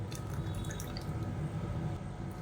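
Water poured into a mixer jar to rinse out freshly ground curry leaf chutney, a soft steady trickle and splash with faint drips over a low background hum.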